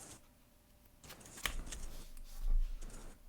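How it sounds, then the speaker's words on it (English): A deck of Flesh and Blood trading cards is shuffled close by in a quick burst of riffling and soft slaps, with rustling handling noise around it. "I'll shuffle up"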